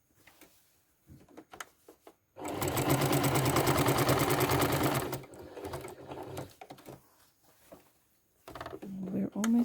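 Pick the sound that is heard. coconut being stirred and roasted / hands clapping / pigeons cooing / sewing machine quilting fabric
sewing machine quilting fabric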